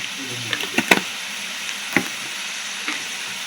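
Gravy for mustard hilsa bubbling in a pot, a low continuous simmer punctuated by a handful of distinct pops and bursts, close and without talk.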